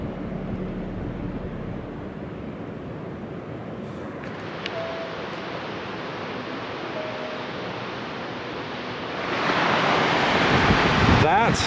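Strong wind at Hetch Hetchy in Yosemite National Park, a steady broadband rush buffeting close to the microphone, swelling louder near the end, with no talking.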